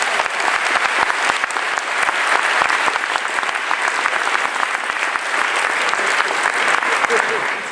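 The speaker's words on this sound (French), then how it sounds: "Encore une fois, applaudissements." Conference audience at the closing session of the 74th IFLA Congress giving sustained, even applause that stays full and dense for nearly eight seconds.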